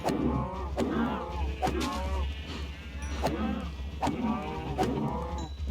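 Cows in the Minecraft video game give repeated short lowing calls at a steady rhythm, close and fairly loud over a constant low hum.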